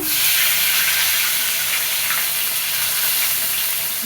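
Whole spices (garam masala, bay leaf, dried chilli) sizzle loudly in hot oil in a pan, a dense continuous frying hiss close by with no talking.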